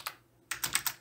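Typing on a computer keyboard: one click, then a quick run of four close, crisp keystrokes after a short pause, near and alone.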